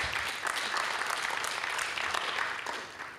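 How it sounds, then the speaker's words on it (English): Audience applause fills a hall at a humanitarian congress, a dense steady clapping that holds at full strength for about three seconds and then tapers slightly. "applauding you for what you're contributing"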